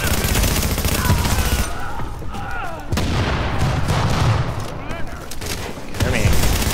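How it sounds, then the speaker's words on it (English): Video game explosions set off next to gas, a rapid series of sharp booming blasts and crackling bursts in quick succession, loud and close, with several cuts and lulls between volleys. "Apparently those explosions don't hurt"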